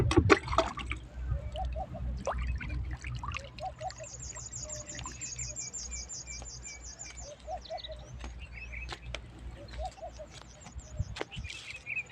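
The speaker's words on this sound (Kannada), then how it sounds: "ಈ ಕಲ್ಲು ಬಂಡೆ ಮೇಲೆ ಸ್ವಲ್ಪ ಹಂಗೆ ಜಾಗ ಇದೆ, ಇಲ್ಲಿಗೆ ನೀರು ಬಿಡೋಣ" Water trickles and pours softly onto a rock hollow outdoors in a scrub forest, with birds chirping intermittently around it and a few sharp taps; faint and fairly distant overall.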